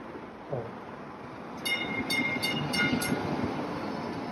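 A passing train in Boston rumbles at moderate volume, with a brief series of sharp high metallic squeals or clicks partway through and steady wheel noise continuing underneath.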